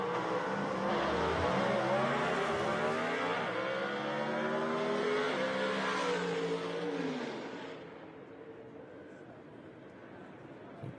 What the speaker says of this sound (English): So Todd Oden in the 58 Del Rey going to get a competition single right here